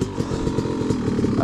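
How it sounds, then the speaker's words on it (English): KTM 500 EXC-F dirt bike engine on a wooded trail, a raspy buzzing thump that pulses and climbs as it revs for a wheelie turn, fairly near, with voices in the background. "Neil's gonna do a wheelie turn"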